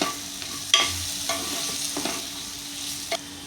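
Spices for vegetable masala khichdi are sautéed in a pan, with a steady sizzle, soft stirring scrapes and a couple of sharper spoon knocks, close up and without speech.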